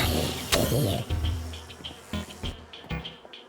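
Minecraft bees from The Bumblezone mod buzz close by, a steady insect drone with small intermittent clicks and pops, after a loud sharp hit at the start.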